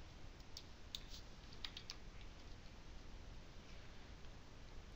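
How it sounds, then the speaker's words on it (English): Faint, quick clicks of keys being typed on a computer keyboard in a few short bursts over quiet hiss. "or by simply typing in whatever numbers you desire"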